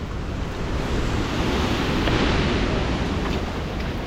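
Strong typhoon wind roars over surging floodwater and crashing waves, a steady, loud, broadband rush filling the whole stretch without letup.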